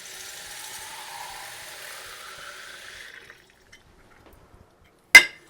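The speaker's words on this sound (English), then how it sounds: "So water goes in the bottom." Water is poured into the bottom chamber of an Italian moka pot, a soft, continuous trickle lasting about three seconds. After a quiet pause, one sharp metallic clack follows.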